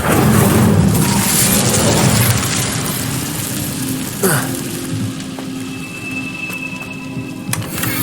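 A fire spell cast in Hogwarts Legacy bursts out as a sudden whooshing thud near the middle, over a steady rumbling game soundscape with a faint later crackle; no talking.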